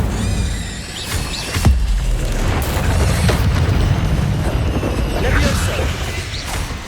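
Incendio fire spell bursting in Hogwarts Legacy with loud, dense booming and crackling blasts, steady and heavy throughout, with game sounds layered over it.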